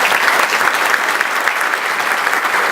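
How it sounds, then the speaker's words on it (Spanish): Loud, dense applause from the audience at a public accountability event for an assemblyman in Morona Santiago, Ecuador, a continuous crowd clatter filling the whole short stretch. "para quien pido un fuerte aplauso"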